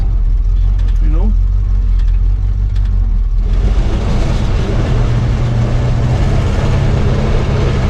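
A V12 engine cold-starts, settling into a loud, dense, steady rumble that fills the rest of the clip after a few seconds of quieter idle with faint talk.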